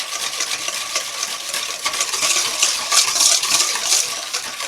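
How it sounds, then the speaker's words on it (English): A whisk beats vanilla extract into wet muffin batter for apple pie crumble muffins, making fast, continuous clinking and scraping against the bowl that grows slightly louder midway. "Whisk this until it's really incorporated good"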